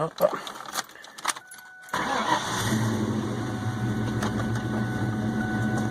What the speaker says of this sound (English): You can definitely hear it has a little bit of lope to it, and that's a cold start.